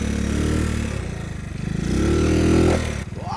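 A toy motorcycle's engine sound revs and winds up and down with a buzzy, steady drone, close and fairly loud, with a brief dip near the end before rising again.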